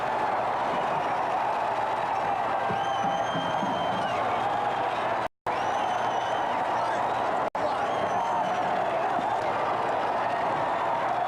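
A sellout arena crowd roars after a 65-64 college basketball win by Arkansas over top-ranked North Carolina in Pine Bluff in 1984, a sustained dense cheer with applause, broken by two brief dropouts.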